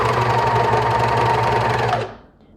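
A serger sewing machine runs at speed stitching a fabric hem, a loud steady mechanical whirring close by that stops abruptly near the end, with no voices.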